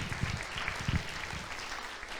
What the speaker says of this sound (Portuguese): Aplauda o Senhor, então, por favor